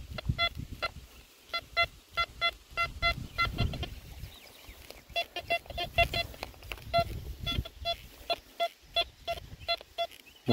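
A metal detector sounds repeated short, tonal beeps in an uneven rhythm as it sweeps over a buried target outdoors, close and clear, with rustling and handling noise between the beeps.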